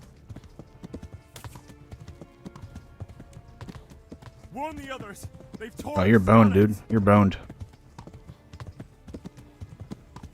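Rapid hoofbeats of a galloping horse in the medieval video game Kingdom Come: Deliverance patter steadily beneath shouted in-game voices, which grow loud midway and partly mask the hooves.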